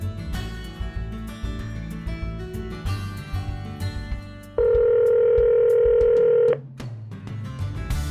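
A phone call placed through Android Auto in a car rings out as a steady ringback tone lasting about two seconds, heard over background music.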